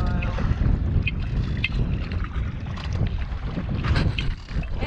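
Wind gusts buffet the microphone in a low, rumbling roar while boating on the San Juan River, with faint water sounds and scattered brief noises throughout.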